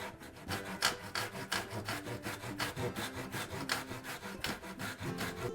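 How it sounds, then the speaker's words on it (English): A handsaw cuts a carved wooden swimbait lure blank, shaped like a largemouth bass and held in a jig, with steady rapid rasping strokes, close and continuous, no talking. "I do that just by using a jig and a handsaw, and I cut them out to the midline of the bait"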